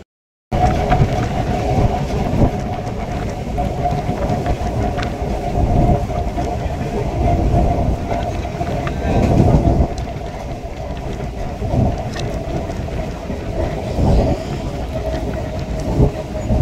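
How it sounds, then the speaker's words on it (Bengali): Local train running on the rails between Barrackpore and Majhdia in West Bengal, a loud continuous low rumble with rhythmic clatter, heard from on board. "এখন এখানে এই বারাকপুর স্টেশন থেকে এদের লোকাল ধরে যাব মাঝদিয়ে।"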